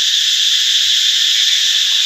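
A loud, continuous shrill buzz of cicadas, steady and unbroken throughout.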